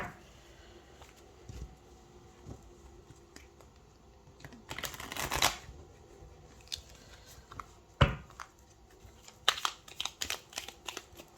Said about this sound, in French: On mélange bien, hein, parce qu'on tire les cartes par paire